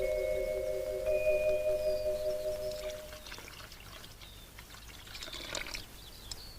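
Water running from a tap in a home, a soft steady stream at moderate distance with a faint flutter, under a held musical tone early on and without talk.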